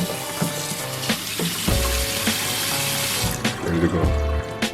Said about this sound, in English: we're gonna blast them with some cold water